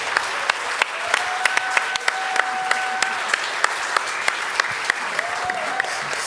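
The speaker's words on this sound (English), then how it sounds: "So a round of applause for Anthony" A crowd at a gathering honoring Steve Albini applauds steadily, dense clapping with a few sharp individual claps standing out, and some voices and whistles mixed in.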